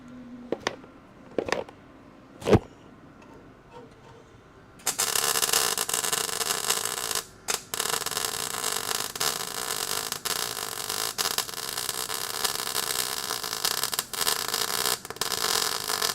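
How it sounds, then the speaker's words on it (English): Welding on a car's frame rails: after a few quiet clicks and taps, a steady loud crackling hiss starts and runs on, broken by short pauses where the arc stops and restarts. "I hate welding like this. I hate it. This is not fun."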